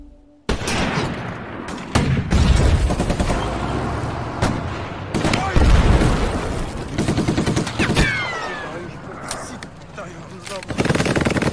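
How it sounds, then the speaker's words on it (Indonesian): Battle scene from a war film, rapid gunfire bursts and machine-gun volleys with booming impacts, loud and dense throughout, with voices shouting amid the shooting. "Walaupun kalah jumlah, Tamnik dan yang lainnya pun mulai melakukan penyerangan."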